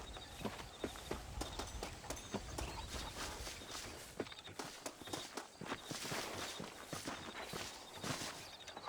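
Horse hooves clip-clop in a steady, brisk rhythm on a Red Dead Redemption ride, close and clear over a faint background bed, with many regular hoofbeats throughout.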